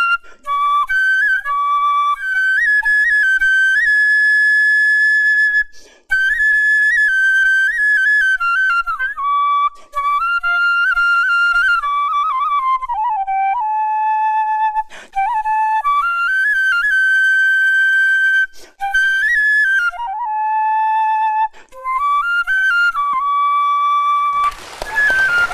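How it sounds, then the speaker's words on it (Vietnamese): Bamboo flute plays a lilting, ornamented melody alone, clear and prominent, with long sustained notes, slides and brief breath pauses throughout; no one talks over it. "Cái tiếng sáo nó ma mị quá."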